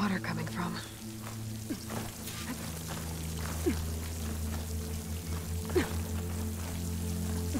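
Water flows and pours continuously in Horizon Forbidden West near a waterfall, heard as a broad, steady rushing wash mixed with drip-like splashes over a low droning ambient hum.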